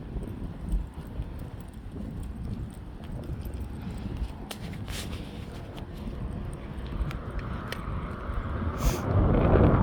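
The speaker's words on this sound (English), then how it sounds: "Yeah, that's wind." Outdoor wind buffeting a microphone during a winter walk, a steady broadband rumble with gusts that build louder toward the end, no talking.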